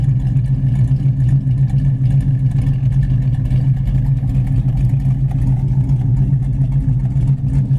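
A deep, rumbling 1973 Dodge Challenger engine runs steadily and loudly close by, with a throaty, lumpy idle throughout.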